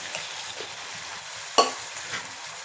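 Spices sizzle softly and continuously as they fry in a pan, with one sharp utensil clink partway through.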